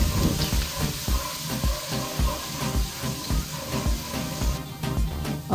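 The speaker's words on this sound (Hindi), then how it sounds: "ऑयल हमारा गर्म हो गया, इसमें हम चॉप किया हुआ लहसुन डालेंगे" Chopped garlic frying in hot oil in a kadai: a steady, bright sizzle with crackling pops and frequent stirring clatter, close and fairly loud throughout.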